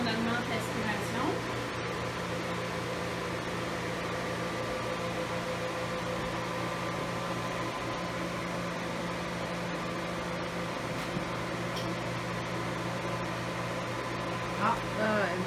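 Cryo Cool cold-therapy device running its suction, a steady close mechanical hum and whir with a constant tonal drone, while people talk quietly over it.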